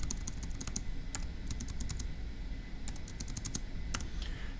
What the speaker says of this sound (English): let's type it up